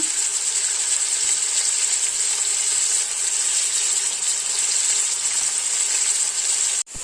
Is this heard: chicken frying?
yes